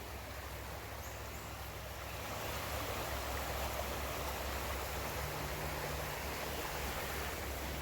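A river flows beside a park, a dense, steady rushing wash of water that swells slightly louder partway through and holds constant, with a faint low hum underneath and no talking.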